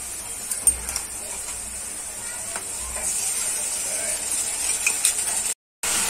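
Ginger garlic paste stirred into browned fried onions in a pan, a close, steady sizzle and hiss with occasional stirring scrapes, a short gap near the end.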